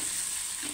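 Garlic and grated onion fry golden in oil over low heat, a brief, even, hissing sizzle close by with no speech.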